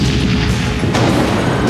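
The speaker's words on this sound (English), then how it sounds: "explosions." Explosion and crash effects from the 1995 action film Die Hard with a Vengeance: loud, dense booming rumble with a fresh crashing impact near the middle, continuous and close.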